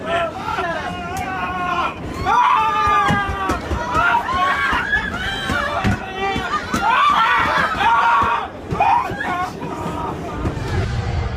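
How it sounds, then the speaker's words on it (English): A rat loose inside a New York City subway train sets off a crowd of men yelling and shrieking, high panicked cries over loud babble and chatter, with train rumble and thumps underneath throughout. "did you see grown men screaming like babies?"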